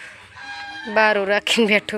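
A rooster crowing once, loud and close, with a rising, harmonic cry that breaks into a strained final note, while a person briefly speaks nearby.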